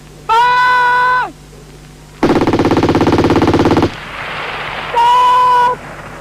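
A GPMG machine gun fires a sustained, rapid burst of about a second and a half on a training range, loud and close, with harmonic tonal sounds before and after it.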